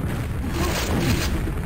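Grenade explosions thud from a Quake duel match, heard as dense, continuous low booms and rumbling blasts that overlap one another, loud and close.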